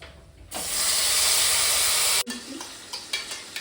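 Dry red chilli, poppy seeds, melon seeds and cashews hit hot oil with whole cumin and a bay leaf, bursting into a loud, steady sizzle that cuts off abruptly, then softer crackling and stirring continue.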